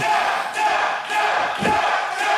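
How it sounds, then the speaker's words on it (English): Wrestling arena crowd at an indoor pro wrestling show roars and chants in surging waves, a dense, loud mass of shouting voices rising and falling in a steady rhythm. "Crowd vehemently telling him to tap."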